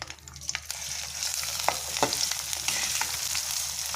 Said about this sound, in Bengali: পেঁয়াজটাকে আমি হালকা বাদামি করে কিছুক্ষণ ভেজে নিচ্ছি